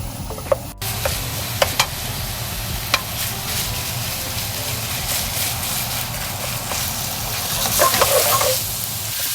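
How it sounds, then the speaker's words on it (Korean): Ingredients stir-fried over low heat in a pan until they turn sticky: a continuous close sizzle runs throughout, broken by a few sharp clicks and scrapes of stirring. "이 향이랑 맛이 올라올 때까지 조좀 볶았습니다"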